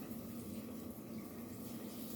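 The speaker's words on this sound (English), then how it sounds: "Then you're going to add some water." Water pours steadily into a pot of cooking pork butt being stewed for stock, a soft continuous splashing and bubbling at moderate distance with no talking.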